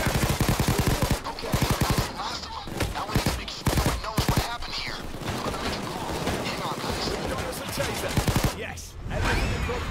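Rapid gunfire from the video game Payday 2 comes in dense automatic bursts, loud and continuous, over game sounds, with a voice talking at times beneath it.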